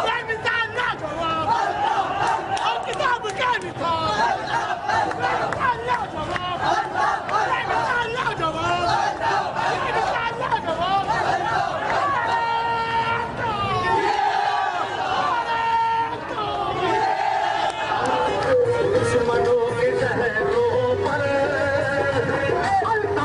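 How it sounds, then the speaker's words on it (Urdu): A large crowd at an MQM Pakistan rally shouts slogans and sings anthems for Altaf Hussain, a dense continuous mass of overlapping voices with rising chant-like calls throughout. "ایم کیو ایم پاکستان کی ریلی میں الطاف حسین کے حق میں زبردست نعرے لگائے گئے اور ترانے بھی گائے گئے"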